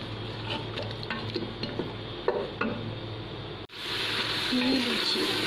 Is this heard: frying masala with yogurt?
yes